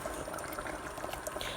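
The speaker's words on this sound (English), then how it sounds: "Add some boiled water, just halfway through." Boiled water pours into a pot of Nepali chicken soup curry, a faint, steady wash of liquid for a moment with no voices.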